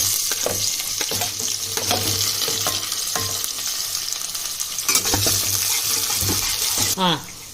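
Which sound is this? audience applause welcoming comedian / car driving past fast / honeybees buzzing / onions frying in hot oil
onions frying in hot oil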